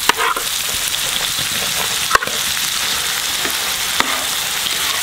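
Lentils and tomatoes fry in a pan with a steady, loud sizzle throughout, broken by a couple of sharp spatters and stirring scrapes; no one speaks.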